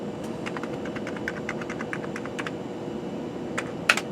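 Keys being pressed one after another on a repaired Amiga 500 computer keyboard, a steady series of close, light clicks over a low hum, ending in a couple of sharper taps.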